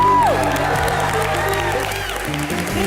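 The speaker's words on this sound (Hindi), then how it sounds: "चलिए भारती और करण के लिए जोरदार तालियां।" A studio audience at a televised comedy show claps and cheers with a few whoops, mixed under music and stage sound, fading somewhat toward the end.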